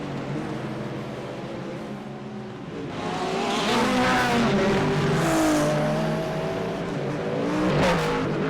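Corvette race car engines in a sim racing game, rising from a steady drone to a louder, revving roar with shifting pitch as cars pass, with faint tire squeal, continuous and near.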